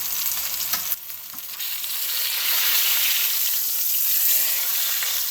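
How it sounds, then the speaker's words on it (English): A beef pot roast sears in a hot pan with a steady, close sizzle. The sizzle swells louder after a brief dip early on and keeps going with no voices. "sear for about 3 minutes per side"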